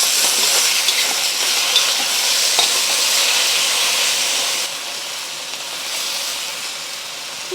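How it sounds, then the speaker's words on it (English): Beef sears and fries in a hot pan for a Chinese takeout-style dish, giving a loud steady sizzle and hiss that eases slightly partway through, with no voices. "we're going to put half the beef in to cook. Let it sit and sear for just a minute before moving it around."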